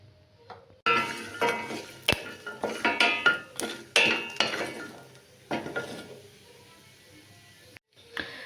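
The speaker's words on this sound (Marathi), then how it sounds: "अक्रोड थोडेसेच टाकले आणि ह्याला पण भाजून घ्यायचं आपल्याला थोडंसं तूप टाकून" A few walnuts roast in a pan with a little ghee while a spoon scrapes and clatters against the metal in a run of uneven knocks, then goes quiet near the end.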